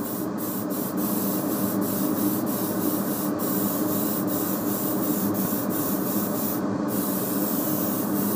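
An airbrush sprays paint through a stencil onto a skull, giving a steady close hiss that runs unbroken throughout, with faint rhythmic ticks on top.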